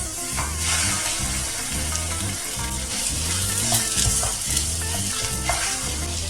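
Minced meat frying in a very hot pan gives off a close, continuous crackling sizzle with a few sharper pops, over a steady tonal background.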